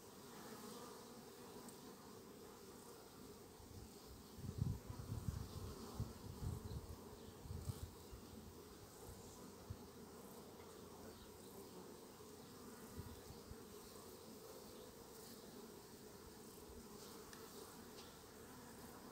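Honey bees in an open hive of a growing swarm colony give a steady, soft buzzing drone that carries on throughout, with a slightly busier stretch of buzzing and faint handling noises near the start.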